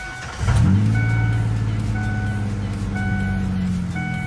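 A car engine cranks and catches after a battery replacement, then settles into a steady idle hum. A faint repeating beep sounds over the running motor.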